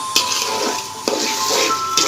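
Rice fries in a hot pan with a constant loud sizzle, broken by sharp scraping stirs and utensil knocks about once a second.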